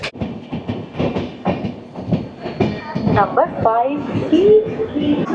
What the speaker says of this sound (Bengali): আমাদের ট্রেন পার করছে কোলাঘাট স্টেশন